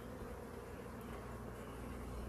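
Honey bees buzz steadily inside a colony, a dense, continuous drone that holds even and close throughout with no voices over it.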